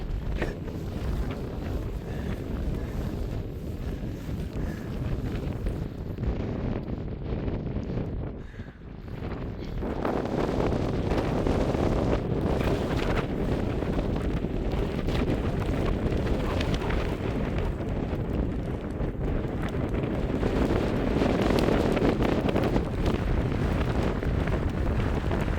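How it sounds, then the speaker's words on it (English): Strong wind buffets the microphone on a misty upland hill path, a loud continuous roar and rumble for the full length, with gusts rising and briefly easing partway through, no voices. "It's proper windy."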